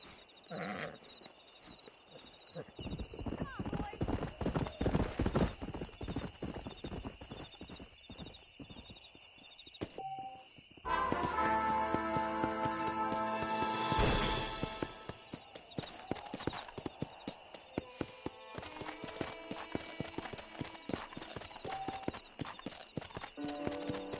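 A stallion's hooves clip-clop in steady rhythm in the video game Red Dead Redemption, close and distinct, with game music and ambience swelling around the midpoint.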